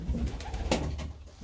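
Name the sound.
pigeons cooing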